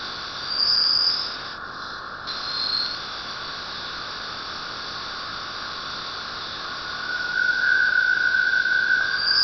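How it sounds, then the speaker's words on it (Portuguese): Continuous hissing noise like static, a sonification of the interstellar medium, with thin high whistling tones that appear briefly and return louder near the end. "Aqui está o som do meio interestelar."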